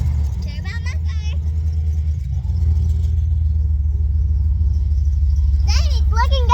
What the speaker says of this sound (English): Cherry bomb muffler. Why don't you walk around the back so you can hear it?